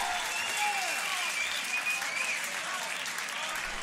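Crowd applause and cheering at a beatbox battle tag team semifinal, a dense, steady wash of clapping filling the hall with some whoops riding on top.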